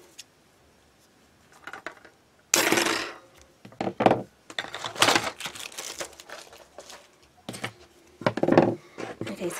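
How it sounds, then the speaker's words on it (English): Tim Holtz scissors or trimmer cutting through DIY galaxy rainbow planner material: a series of crisp, close crunching snips and crinkles in uneven bursts after a quiet start, with no talking. "Let me cut here."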